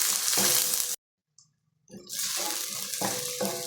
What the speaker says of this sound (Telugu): ఇప్పుడు ఉల్లిపాయలు కరివేపాకు పచ్చిమిర్చి వేసేసుకున్నాము ఇప్పుడు కొంచెం కలర్ బాగా వచ్చేటట్లుగా వేయించుకున్నాము ఉల్లిపాయ ముక్కల్ని